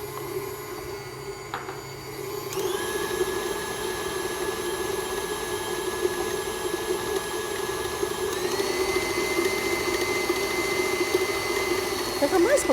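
An electric stand mixer runs steadily, beating water into powdered icing, a continuous motor whine with a sustained hum and a rising tone partway through, close and moderately loud throughout.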